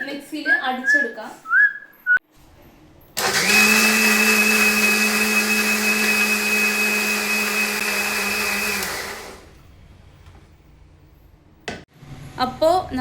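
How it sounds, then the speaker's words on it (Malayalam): Electric mixer blending a mango shake with sugar, a loud steady motor whine running about six seconds after brief talk, then cutting off before more speech. "ഇനി നമുക്കിത് മിക്സിയിൽ അടിച്ചെടുക്കാം."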